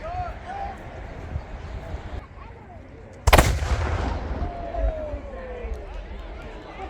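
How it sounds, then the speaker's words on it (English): A single cannon blast booms loud and close at a War of 1812 battle re-enactment, sudden and sharp against an outdoor background of murmuring and movement, with a long rumbling tail. "I do not warn you about the first cannon."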